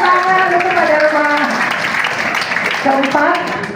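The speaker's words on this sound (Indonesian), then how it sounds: "Tepuk tangan untuk Pak Dharma." Audience applause at a political campaign gathering, moderate clapping from a crowd mixed with voices and cheering, loud and close throughout.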